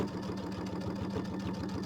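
A sewing machine runs a continuous quarter-inch seam on a small mini quilt, a steady, moderately quiet humming whir with a fast, even pulse throughout.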